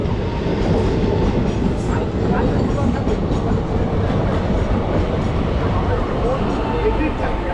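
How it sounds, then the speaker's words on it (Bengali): The Hul Express departs on the Bardhaman–Howrah chord line toward Siuri, with a continuous loud rumble of railcars and rhythmic wheel clatter, heard close and steady throughout. "হুল এক্সপ্রেস বেরিয়ে গেল, সিউড়ির দিকে যাচ্ছে।"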